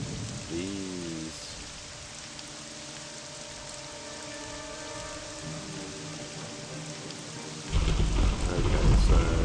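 Rain and a thunderstorm in the video game Morrowind: constant rain hiss over soft game-music tones, then a loud, deep rumble of thunder rolls in near the end and swells.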